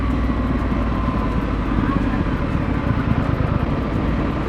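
A small motorcycle passes at a Harley-Davidson dealership grand opening in Countryside, Illinois, its engine a loud, steady rumble that blends with the surrounding traffic drone throughout.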